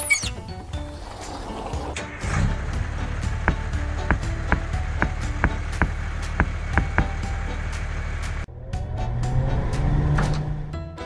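A red toy fire truck's engine hums steadily with a low rumble, punctuated by a regular series of sharp clicks or taps, then cuts off briefly before the motor rises again near the end.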